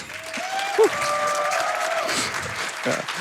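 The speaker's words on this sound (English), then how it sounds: "Can we give one more round of applause to our racers here?" A crowd claps steadily throughout for speedrunners finishing Pac-Man World 2 Re-Pac, a lively burst of applause with a few faint voices mixed in.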